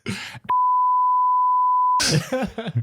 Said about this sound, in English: it's probably the third time we've said someone's full address and then beeped it out